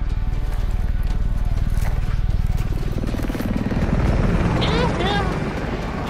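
Helicopters in the Call of Duty Warzone video game give a steady, dense rotor thump throughout, loud and continuous, with players talking over the noise and a few brief higher electronic chirps near the end.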